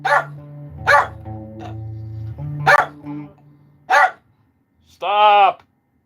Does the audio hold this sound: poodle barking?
yes